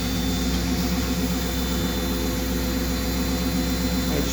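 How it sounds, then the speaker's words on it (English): A vehicle engine idles right after its A500 (42RH) transmission rebuild, with a steady, continuous low rumble and hum held at an even level the whole time, and no one speaking. "I just threw the battery in it real quick here just to let her idle a minute"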